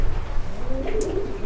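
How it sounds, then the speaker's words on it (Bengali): Pigeons coo on a pigeon breeding farm, a close, low rolling coo rising over a murmur of other birds in a short burst. "এগুলো আমার সব বাসারই কবুতর"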